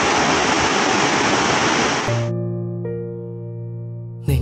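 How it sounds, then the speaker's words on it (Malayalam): A waterfall roars as a loud, dense wash of rushing water for about two seconds, then cuts away to quiet sustained musical tones, with a brief burst of noise at the very end. "വെള്ളച്ചാട്ടത്തിൻ്റെ സൗണ്ട് കേൾക്കാൻ പറ്റുന്നുണ്ട്, അങ്ങോട്ട് പോയി നോക്കട്ടെ"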